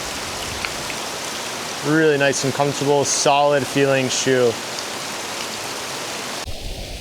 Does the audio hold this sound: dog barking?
no